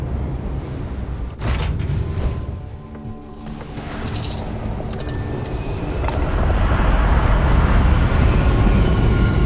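Spaceship lifting off in the game Starfield, a loud sustained engine roar with a rumbling low end that builds steadily and grows heavier toward the end, with no talking.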